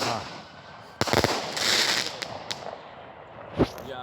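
Fireworks burst overhead in a sharp crack followed by a sizzling crackle, then a few scattered pops and a final nearby bang, heard outdoors at moderate distance.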